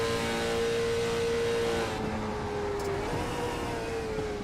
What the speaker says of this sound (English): Listen to the downshift.